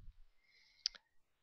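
One faint, crisp click of a computer mouse pressing an on-screen OK button, a quick double tick in a quiet room.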